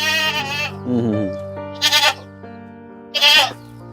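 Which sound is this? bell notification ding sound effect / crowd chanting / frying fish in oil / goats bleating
goats bleating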